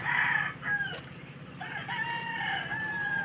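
A rooster, called a barako, crows loudly and close by, with a long warbling call that rises and falls across the whole few seconds over a low background rumble.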